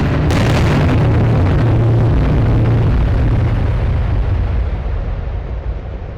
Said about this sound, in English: make sure you aren't too close to the bombs when they go off